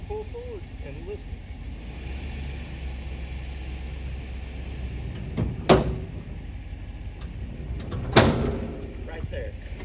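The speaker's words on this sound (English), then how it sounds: "So the lock in the very back just engaged." Two sharp metallic clunks from the rear lock pin of a rollback car hauler engaging, set against a steady low rumble of a running vehicle as it pulls forward.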